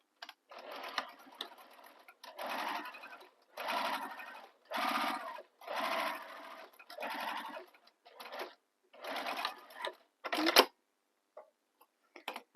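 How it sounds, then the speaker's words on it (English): A sewing machine stitches a bag in repeated short bursts of whirring, about ten runs separated by pauses, heard close and fairly quiet with no talking. "Let's do that again, stitching right in those same holes that I already stitched in."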